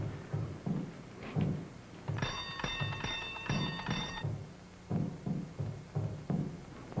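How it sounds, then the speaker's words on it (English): A door bell in a 1941 film rings for about two seconds with a steady metallic ring, set among rhythmic knocking thumps. "You ring the bell."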